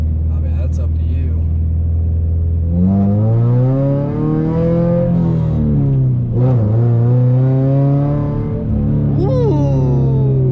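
A 2013 Scion FR-S, a rear-wheel-drive coupe, pulls hard from inside the cabin, its engine note climbing through a gear, dipping at a shift and rising again, loud and close.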